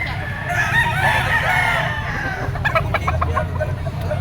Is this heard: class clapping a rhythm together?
no